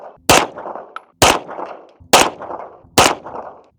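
Four sharp pistol shots from a Springfield Prodigy fired at 15 yards, evenly spaced about a second apart, each a loud crack followed by a short ringing echo off the range.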